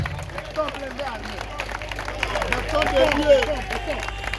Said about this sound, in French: Applaudissons très fort pour le président de la République, Félix Tshisekedi